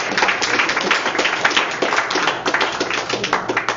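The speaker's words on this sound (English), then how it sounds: "Thanks for the forced applause." An audience at a physics talk claps in a dense, fairly loud burst of applause that keeps going throughout with no voices.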